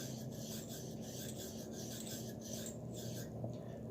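A nylon brush scrubs a firearm during cleaning, a close, continuous rasping rub with a rhythmic back-and-forth pulse of strokes, fairly quiet and with no talking.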